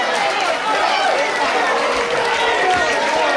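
An independent wrestling show crowd roars in a sustained, dense wall of cheering and shouting, loud and close throughout, with an announcer talking over it.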